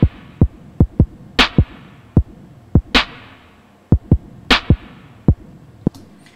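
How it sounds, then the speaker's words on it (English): Programmed drum beat with reverb applied, built from Kontakt and VST drum sounds: punchy kicks and snares in a steady pattern, each hit trailing a washy reverb tail, loud and alone with no talk. "And that's what we have for the drums."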